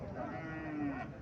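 A five-month-old Haryana Jersey calf at a cattle market gives a single drawn-out moo, fairly faint and unaccompanied by talk.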